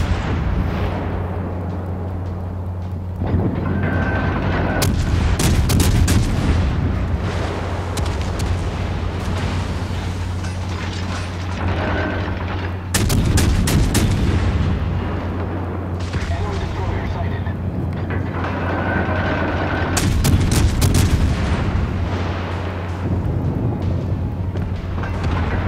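Warship main guns in World of Warships Legends booming in heavy salvos, three big bursts with rumbling tails over a constant engine hum, while someone talks over the action.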